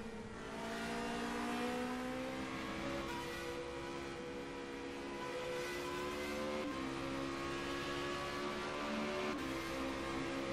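Formule Renault 3.5 race car engine at Suzuka, heard onboard from the roll hoop: a loud, steady high-revving whine with rising pitch sweeps and brief dips at gear changes, running continuously throughout.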